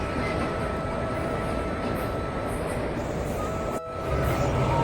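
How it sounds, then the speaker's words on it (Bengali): Passenger train crossing the Teesta river, a steady loud rumble of wheels and carriage running continuously close by, with a brief dip near the end before the noise resumes. "এবার আমি প্রথমবার আমি ট্রেন দিয়ে যাচ্ছি তিস্তা নদীর উপর দিয়ে।"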